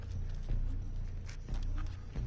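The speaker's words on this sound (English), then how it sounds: "I have a magic horse." A magic horse in The Binding of Isaac: Rebirth clip-clops along in a steady rhythm, its hoof beats fairly quiet over a low background hum.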